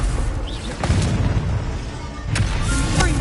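Incendio fire spell blasts in Hogwarts Legacy, a few sharp whooshing booms over a roaring, crackling combat background, with hits landing close and loud.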